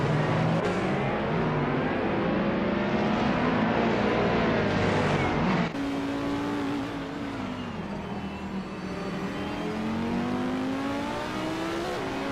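A 2013 Alfa Romeo 4C engine from a racing video game roars steadily throughout, its pitch rising and falling with gear changes and other cars close by.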